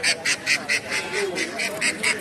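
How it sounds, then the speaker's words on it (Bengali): Ducks, including Beijing ducks raised for meat, quack in a rhythmic series of about ten honking calls at a Naogaon poultry market, fairly close and loud, with no clear talk over them. "চীনের বেইজিং হাঁস, সেটা মাংসের জন্য করা হয়।"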